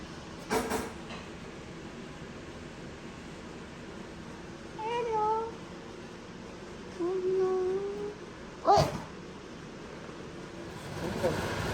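A cat meows a few times, drawn-out and moderately close, separated by quiet gaps, with brief clatters and a voice now and then.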